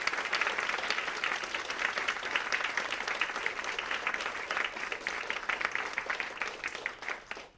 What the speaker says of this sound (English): can you please give these phenomenal women a round of applause?